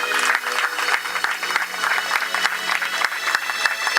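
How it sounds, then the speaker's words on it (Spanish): A church congregation claps along in rhythm during a Spanish-language sermon, repeated beats over music-like tones and a lively crowd, with no clear speech. "¿Cuántos dan palmas a Dios por eso?"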